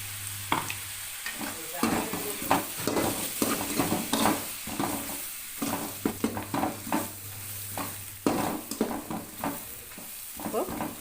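Masala frying in a pan for a bottle gourd curry, close sizzling broken up by repeated scraping strokes of a spoon stirring it, loud and busy with no voice over it.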